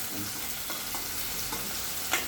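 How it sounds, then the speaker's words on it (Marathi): Onions fry in a pan with green chilies, a steady soft sizzle with a few light stirring scrapes and one small clink near the end, close and without talk. "कांदे टाकायचे, थोडे कांदे का लालसर होऊ देऊया"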